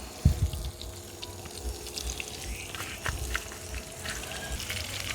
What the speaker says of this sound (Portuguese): Tá fritando.